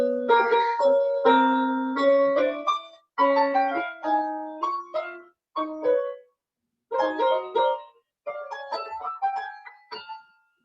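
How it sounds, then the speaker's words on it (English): Loose, free-form piano noodling with fingers picking random notes and small clusters in uneven bursts, separated by short pauses and fading ringing tones, close-miked and alone. "I first get to the piano and I do this."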